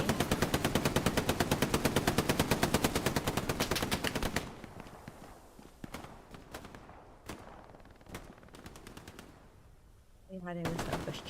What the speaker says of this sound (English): And I can hear an MG.